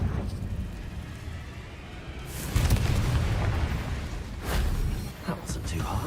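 A Confringo fire spell from Hogwarts Legacy explodes with a sudden booming burst around the midpoint, followed by a second, smaller blast, over a rumbling game background with a voice speaking.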